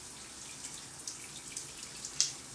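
A thin stream of running water plays over fingertips held in it, a faint steady trickle with small splashes and one sharper drip near the end, with no voices.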